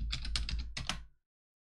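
Quick bursts of keystrokes on a computer keyboard clatter in a fast run, pause briefly, then two more taps before stopping into silence; close and crisp, with no talking.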